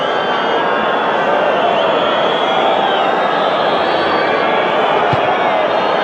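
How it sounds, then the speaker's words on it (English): Crowd noise from a packed rugby stadium during a South Africa versus Argentina match, a steady broad roar of cheering that holds loud and continuous throughout. "something for this crowd to cheer"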